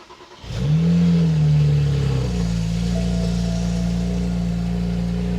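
A stage 2 modified BMW 335i with catless downpipes cranks and catches, flaring up in a brief rev before settling into a steady, close, rumbling idle.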